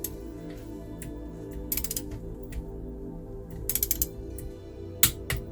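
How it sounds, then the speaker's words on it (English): Torque wrench ratcheting while tightening cylinder head bolts on a Reliant Regal Supervan 3 engine rebuild, with short clusters of sharp metallic clicks in bursts over a steady background hum, close by. "So I'll get all these torqued down."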